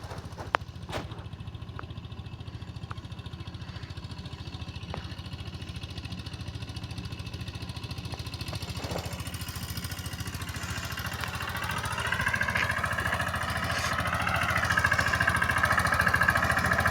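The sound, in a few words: tractor engine running in a farm field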